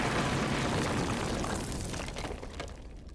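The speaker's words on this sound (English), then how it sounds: "a loud explosion came from the laboratory" A loud explosion from a laboratory as a story sound effect: a dense, roaring blast with crackling, shattering debris that slowly dies away.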